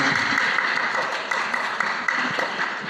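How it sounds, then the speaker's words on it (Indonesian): Audience applauding a contestant at an orphanage Quran recitation competition in Madiun, a dense steady wash of many hands clapping for a few seconds, with some voices mixed in. "tepuk tangan"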